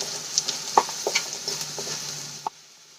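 Vegetables sautéing in a pan for a Maggi-based snack give a soft, steady sizzle for about two and a half seconds, with a few light clicks and taps of stirring on top, before the sound cuts off abruptly.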